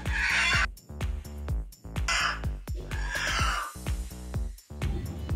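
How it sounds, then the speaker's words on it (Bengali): A hen being carried off for slaughter squawks and clucks loudly and agitatedly at close range in rapid, uneven bursts, with no talk over it. "ওর বাবা এখন মুরগিটাকে ধরে নিয়ে যাচ্ছে নিচে, জবাই করে নিয়ে আসবে।"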